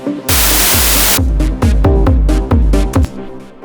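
A loud techno track built on a noise oscillator blasts before gain staging, starting with a sustained roar of noise and then breaking into heavy, pulsing bursts with booming low end, near clipping.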